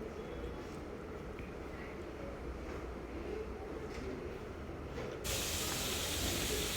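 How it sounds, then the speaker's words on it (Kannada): Vegetables fry in oil for vegetable semiya, a soft, steady sizzling hiss that jumps to a louder, brighter hiss near the end. "ಸೊ ಚೆನ್ನಾಗಿ ವೆಜಿಟೇಬಲ್ಸ್ ಬಂದು ಆಯಿಲಲ್ಲಿ ಫ್ರೈ ಆದರೆ"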